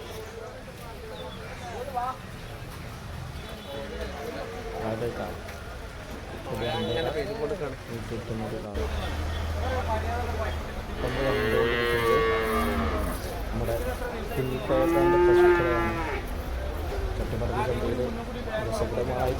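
Around ten tethered bulls, cattle raised for meat, let out deep moos, loudest in the middle stretch, while someone talks over them almost throughout.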